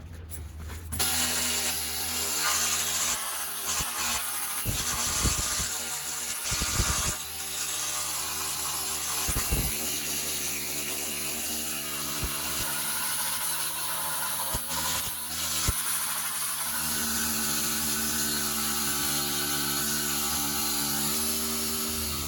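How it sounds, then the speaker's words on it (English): Needle scaler knocking rust off the frame of a 1994 Jeep YJ near the rear crossmember, a harsh continuous rattling buzz with sharp bursts and uneven surges, loud and close with no talking. "let me get the needle scaler and we're gonna start"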